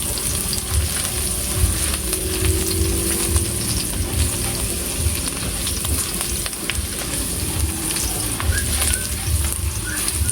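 Garlic sautés in a pan for ginisang munggo, giving a steady, dense sizzle that holds unbroken and fairly loud throughout.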